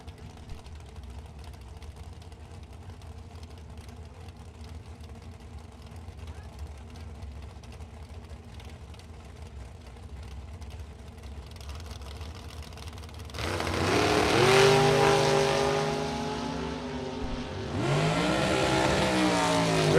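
A dragster and a '62 Chevy II launch down a drag strip, a loud rising engine roar surging in near the end over steady crowd and announcer talk.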